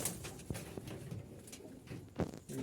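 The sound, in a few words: Jalali pigeons cooing in loft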